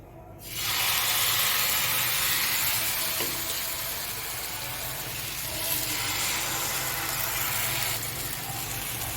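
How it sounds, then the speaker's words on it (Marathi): Dosa batter poured onto a hot oiled tawa over a high flame, bursting into a loud, steady sizzle that holds at full strength for several seconds, close up, with no talking. "तवा तापलेलाच आहे आणि आता त्यावर डोसा घालायचा"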